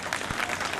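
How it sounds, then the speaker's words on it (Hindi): Audience at an Ambedkar Jayanti gathering clapping loudly for themselves, a brief, dense burst of applause with a low crowd murmur beneath it. "एक बार अपने लिए जोरदार तालियां बजा दीजिए।"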